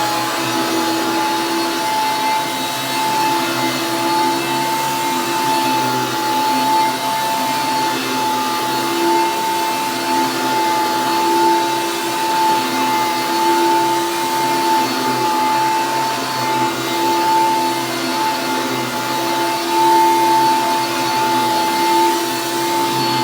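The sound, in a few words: Hoover upright vacuum cleaner running on carpet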